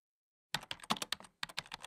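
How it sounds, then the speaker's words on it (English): A computer keyboard clatters after half a second of silence. Quick, close taps come in two bursts with a brief pause between them, and no one speaks. "Oh, my keyboard."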